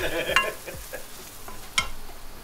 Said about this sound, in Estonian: No nüüd juba säriseb. Jah, üks hääl säriseb.